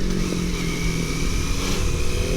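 A 2024 Triumph Daytona 660 sports bike, its 660 triple engine droning loud and steady at constant revs with a dense buzzing tone throughout, close and with no voices.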